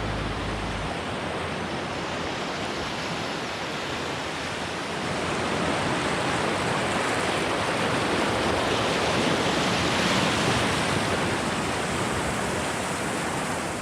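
A small man-made creek fed by cold snow melt flows steadily, a continuous broad rushing wash of water heard close up with no voices.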